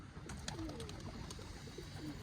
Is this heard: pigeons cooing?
yes